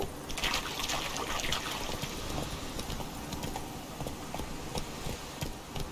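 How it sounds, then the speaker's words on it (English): Hooves pound steadily beneath a wash of noise as a horse gallops in The Witcher video game, a busy, continuous layer without clear separate strides. "Whoa there, Roach."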